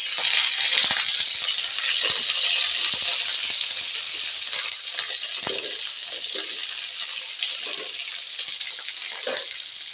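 Crushed garlic and curry leaves sizzling in hot oil make a steady loud hiss and crackle that continues throughout with scattered pops and spatters.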